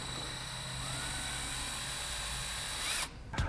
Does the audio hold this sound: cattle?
no